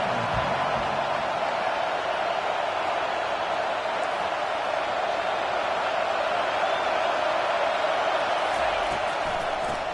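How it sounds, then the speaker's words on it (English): A roaring football stadium crowd at a Nebraska versus Oregon game, a dense, sustained wall of noise on a third down, with a commentator talking over it. "this crowd will blow out a vocal cord to help this defense"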